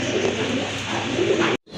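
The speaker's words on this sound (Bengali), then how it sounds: "আর এই যে পেছনে এটা কিন্তু নর কবুতর।" Fancy pigeons, a male and a female pair, cooing steadily and close by for well over a second before cutting off abruptly, with no talk over them.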